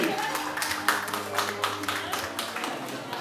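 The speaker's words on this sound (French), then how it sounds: "On applaudit très fort, je vous en prie." A crowd claps steadily, dense irregular applause throughout, with a voice talking underneath.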